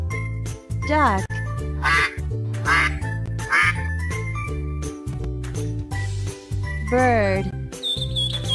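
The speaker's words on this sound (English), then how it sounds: "Duck." A duck quacks repeatedly in a children's animal learning puzzle, loud, bright quacks popping up over a bouncy, jingling music track.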